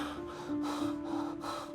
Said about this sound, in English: He's breathing fast and is burning up